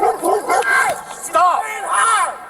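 A dog yips and barks in short harmonic bursts during a tense street confrontation where a police officer threatens to shoot it, with raised voices talking over and between the barks.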